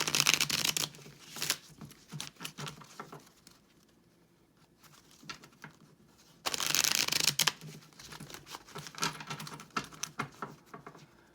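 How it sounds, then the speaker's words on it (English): An Aquarian Tarot deck is shuffled in two close, brisk rounds of papery riffling, with a quieter stretch of light card handling in between. "I'll do a quick shuffle or two here."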